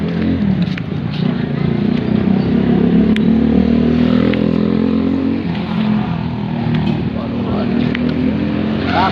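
Motorcycles and other vehicles pass along a road heard during a hike, their engines droning and revving fairly close, with a loud continuous hum and a person speaking over it.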